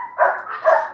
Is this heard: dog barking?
yes